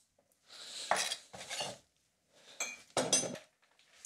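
Chopped kimchi is stirred into mayonnaise in a bowl for a tartar-style sauce: several short bursts of scraping and clinking from a utensil against the dish, separated by brief pauses.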